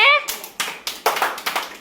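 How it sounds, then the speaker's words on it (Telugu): Schoolchildren in a classroom clap for a classmate, a brief burst of several sharp, uneven hand claps following a voice. "మైత్రికి క్లాప్స్ కట్టండి"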